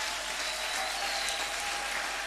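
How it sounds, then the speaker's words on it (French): A church congregation at a Sunday thanksgiving service applauds for a pastor, a steady, even wash of clapping from many hands that fills the whole moment without pause. "est-ce qu'on peut acclamer pour le pasteur Tamar?"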